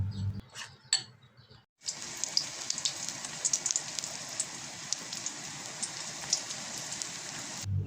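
Chillies sizzle in hot oil as a snack for iftar, a steady bright crackling hiss with scattered pops lasting several seconds after a few brief knocks, close and fairly quiet, with no talking.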